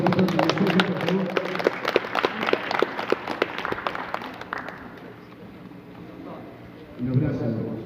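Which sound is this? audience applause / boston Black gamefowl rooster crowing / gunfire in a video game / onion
audience applause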